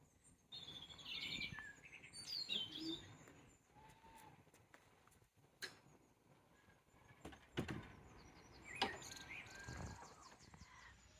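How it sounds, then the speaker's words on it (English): Birds chirp and tweet in scattered bursts outside a rural country church around lunchtime in late April, with fainter background rustle between the calls. "more clearly you may very well hear the chirping of birds"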